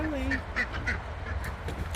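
Farm ducks kept alongside pigs and chickens give a few short nasal quacks close by, over a low rumbling background, while someone talks.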